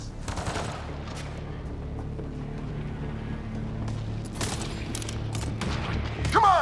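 Gunfire in the sci-fi shooter Mass Effect Andromeda, with steady rattling shots, bursts and a low rumbling bed throughout and a louder flurry near the end.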